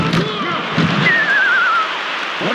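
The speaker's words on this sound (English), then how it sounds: "That's the sound of interception, Chris." Whistling video-game interception effect from NFL Blitz Pro 2, a wavering tone gliding downward over a soft bed of crowd noise, with a few brief low thumps at the start and end.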